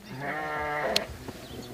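A sheep on a farm lets out one long, wavering bleat close by, followed by quieter rustling.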